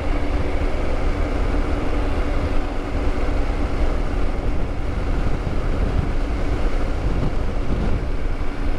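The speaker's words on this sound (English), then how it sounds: "Got a little wind coming off the mountain, also wind gust." Steady, loud wind roar buffeting a rider on a Triumph Tiger 900 motorcycle out on a mountain road, a continuous broadband rush with engine and road noise blended underneath and no talking.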